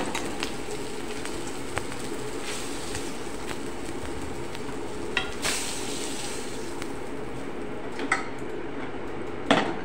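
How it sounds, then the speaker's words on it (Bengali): Boal fish frying in leftover oil in a kadai gives a low, steady sizzle with a few sharp clinks and scrapes of a utensil against the metal pan, close by and with no talking. "এই যে হয়ে গেল আমার সবগুলো মাছ ভাজা।"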